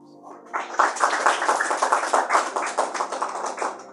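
A church congregation claps together during a Sunday evening service, a dense run of close, quick hand claps starting abruptly and continuing steadily to the end without talk.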